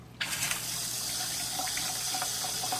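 Water gushes suddenly from a kitchen faucet fitted with a color-changing LED light, then flows steadily with a bright, splashing hiss close by and a low hum underneath.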